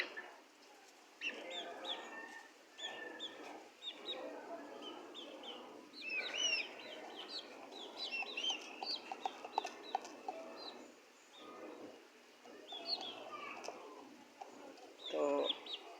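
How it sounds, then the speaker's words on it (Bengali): Native chickens, about two months old, clucking and cooing while eating, a mix of soft repeated calls and chirps close by, steady throughout with brief pauses. "তো দেখতেছেন আমাদের মুরগি কত সুন্দর করে খাবার খাচ্ছে"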